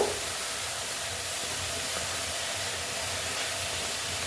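Lau shak (bottle gourd greens) frying in a pan, a steady broadband sizzle and hiss that runs evenly throughout with no talking.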